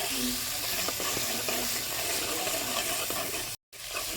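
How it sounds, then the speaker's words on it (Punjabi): Masala roasting in a pan for a ginger-garlic curry, a constant close sizzle with light rhythmic stirring taps, interrupted by a brief silent gap near the end. "ਇਹ ਚੰਗੀ ਤਰ੍ਹਾਂ ਪਹਿਲਾਂ ਤੇ ਮਸਾਲਾ ਨੂੰ ਭੁੰਨਾਗੇ"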